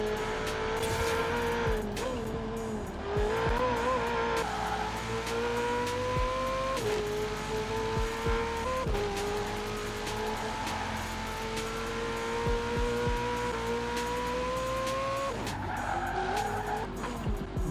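A 900-horsepower, rear-wheel-drive Ferrari 488 Pista is driven hard on track, its engine climbing in pitch through repeated gear changes while tires squeal, loud and close throughout.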